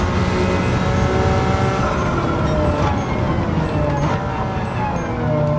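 Simulated 1990 Nissan R32 GT-R NISMO racing around Interlagos in Gran Turismo 7, a loud, steady turbocharged engine drone with rising and falling harmonics through gear changes, continuous and close, no talk over it.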